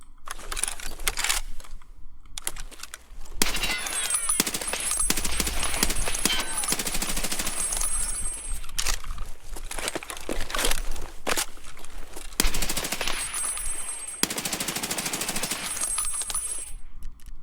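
Automatic gunfire from a rifle in Escape from Tarkov, sustained loud bursts with short pauses between them, sharp rapid reports filling most of the stretch, with faint in-game movement sounds in the quieter gaps.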